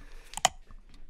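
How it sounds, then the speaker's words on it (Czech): Pop-it bubbles in the mobile game Pop Us give a couple of quick, crisp clicks close together, followed by softer faint ticks, short and fairly quiet. "jde hlavně o ten zvuk, který tam slyším, jak to všechno kliká krásně"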